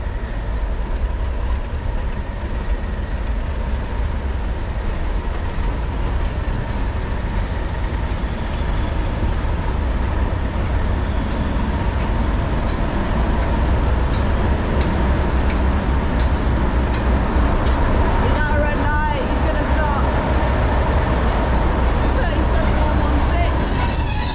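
A train rumbles steadily close by at Bolton station, with low continuous rolling noise, brief squealing wheel tones and a short clattering burst near the end, and faint voices mixed under it.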